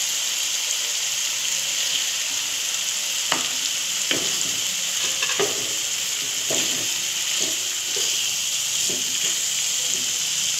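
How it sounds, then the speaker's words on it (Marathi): Soya chunks and spices such as garam masala sauté in a pan, with a steady, loud hiss of frying running throughout and occasional soft scrapes of a spatula stirring, with no talk. "हे सगळं आपल्याला यामध्ये टाकून घ्यायचं आणि चांगलं असं परतून घ्यायचं"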